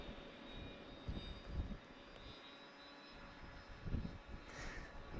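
A DJI FPV drone-style model airplane motor drones steadily from a distance, faint and continuous, its pitch and throttle shifting slightly, with soft wind thumps and no talking.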